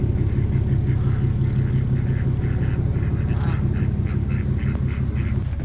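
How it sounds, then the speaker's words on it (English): Ducks quack repeatedly at a farm pond, the nasal calls overlapping over a loud, steady low engine rumble, likely from a nearby Kubota excavator. "we might as well feed the ducks."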